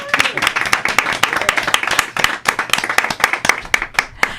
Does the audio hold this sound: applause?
yes